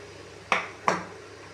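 Two sharp clinks of a spoon against a pot while rice flour is stirred into boiling water for kozhukattai, spaced under a second apart, close and fairly loud over a quiet background.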